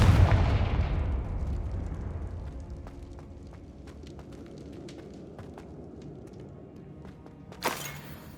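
The Confringo blasting spell cast in Hogwarts Legacy: a loud, close fiery boom that rolls off into a long crackling, rumbling tail, with a brief sharp burst near the end.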